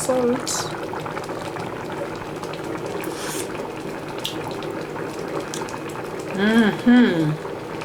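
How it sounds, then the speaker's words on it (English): A continuous bubbling, rolling boil of water in a pot, steady throughout, with a voice speaking over it near the end. "this water is boiling"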